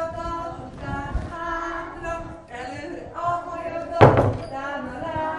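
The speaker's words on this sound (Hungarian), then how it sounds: "Bezárom az ajtót." A door in a Hungarian Reformed church children's group building is shut and locked, giving one close, solid thud of the closing door partway through, while people talk before and after it.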